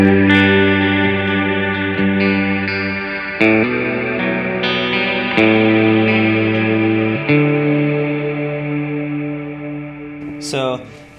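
An electric guitar runs through an EHX Soul Food overdrive pedal with plenty of reverb, ringing out sustained, ambient chords that shift every few seconds and wash into one another, played loud and close with no talking.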